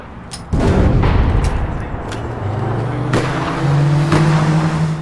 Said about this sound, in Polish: ładne są te wybuchy w sumie